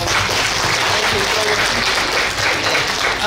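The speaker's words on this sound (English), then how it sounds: "one more round of applause for Jason being here" An audience applauds for a guest named Jason at a meet-and-talk event: a dense, steady wash of many hands clapping, loud and close, lasting the whole stretch without pause.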